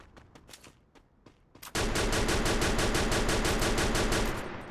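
Rapid automatic gunfire in the mobile battle-royale game Free Fire: a few scattered single shots, then a long, loud, steady burst of rhythmic fire lasting several seconds before tapering off.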